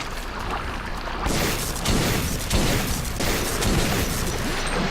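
Dense, continuous gunfire and booming blasts from combat in the video game Metro 2033, rolling in loud repeated bursts for the whole stretch with no talk over it.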